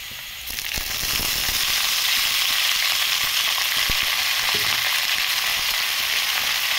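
Ponnaganti greens dropped into a hot tempering in a pan, setting off a sudden loud, dense sizzle that holds steady with a few faint crackles and stirring scrapes, close and alone.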